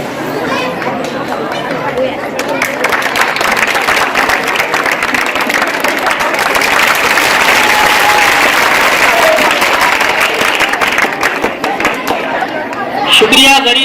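Sustained audience applause with crowd chatter at a school annual function, a dense steady clapping wash filling the hall for most of the stretch before tapering off near the end.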